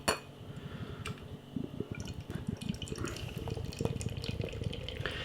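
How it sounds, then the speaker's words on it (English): Magic Rock What Are The Odds? DDH double IPA is poured into a glass: faint close liquid splashing and glugging with light glass clinks, steady and quiet throughout. "let's get this beer out into a glass and see what we get"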